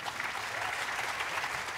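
Audience at a jazz concert applauding a pianist, a steady, dense wash of many hands clapping throughout.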